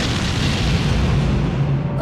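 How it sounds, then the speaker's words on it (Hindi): Deep, sustained rumbling roar of a bridge being blown up in an action film, loud and dense throughout with a steady low-end boom and no break. "वो सिर्फ ब्रिज उड़ा रहे हैं।"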